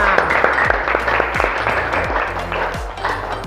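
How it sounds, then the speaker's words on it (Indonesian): A class of students claps together for everyone during a mathematics lesson on solid shapes, loud, close, fairly rhythmic clapping with repeated sharp beats running through the whole short stretch. "Kita tepuk tangan dulu buat semuanya."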